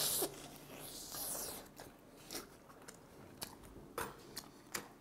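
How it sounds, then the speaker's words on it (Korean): Crispy flounder-shaped bungeoppang, a fish-shaped pastry from a Jeju flatfish eatery, bitten tail first, giving several close crunchy bites and chewing crackles in short bursts with no talking. "전 붕어빵에서도 꼬리부터 먹습니다."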